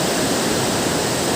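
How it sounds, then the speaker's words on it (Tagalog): Strong river water rushes through Wawa Dam in Montalban, Rizal, a loud, steady, close roar of churning flow with no other sounds. "Nakikita ko po sa inyo kung gaano kalakas ang tubig dito na pumasok dito sa Wawa Dam."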